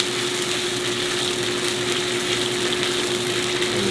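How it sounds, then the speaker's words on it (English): Coconut milk, lime leaf and water soup boils in a pot with a constant bubbling hiss, close and steady without pause. "Okay, let them boil."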